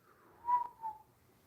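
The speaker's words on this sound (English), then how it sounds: "It was like a very, very faint whistle." A faint, thin whistle drifts through a quiet tattoo shop during a paranormal investigation, rising briefly in two soft pulses before fading, with no one talking over it.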